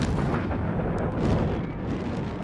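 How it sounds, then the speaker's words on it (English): Underground liquid propane storage tanks exploding beneath a city street, a sustained, loud rumbling roar of blast and fire that fills the whole clip without pause. "Another devastating explosion rocks the city"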